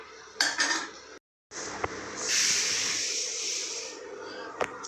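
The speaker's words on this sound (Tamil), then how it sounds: "இப்போ இதை எடுத்து ஒரு தட்டில் மாற்றிடுங்க." Roasted urad dal lentils are tipped from a pan onto a plate, giving a few close metallic clinks and scrapes followed by a soft hissing rattle as the grains pour and settle.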